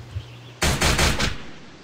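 Gunfire from a zombie-escape mobile video game: a short burst of rapid automatic shots, loud and close, coming in after a brief quiet stretch and fading out within about a second.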